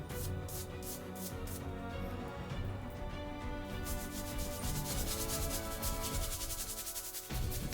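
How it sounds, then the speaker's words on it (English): A shaving brush works Rockwell shaving soap into a lather, making a steady, close, wet swishing and rubbing that continues without pause. "start working this up to one fantastic lather here"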